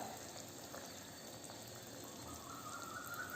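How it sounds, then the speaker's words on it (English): Tamarind water with ginger boiling in a pot while puli inji pickle is cooked for a Kerala Onam feast: a faint, steady bubbling hiss throughout, with no talking. "You can find the tamarind water is nicely boiling in our ginger and ginger is finely cooked."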